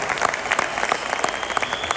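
An audience at a mentor's talk claps steadily throughout, a moderately loud patter of many hands without a break.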